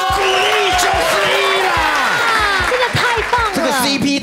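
A studio audience at a live-stream skincare demo claps and cheers, with whoops mixed in. Loud, overlapping talk runs throughout.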